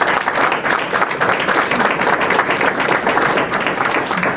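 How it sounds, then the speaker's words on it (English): Sustained, loud applause from the audience at a county VA announcement in Morris Township, a steady dense wash of clapping that fills the whole stretch without a break. "please give them a round of applause."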